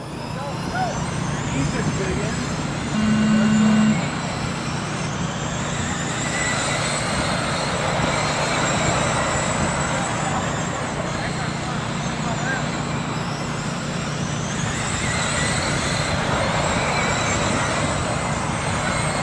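Race cars at a Toledo TARCAR event roll out to start the race, their engines making a continuous, loud rumble under an announcer talking over a PA.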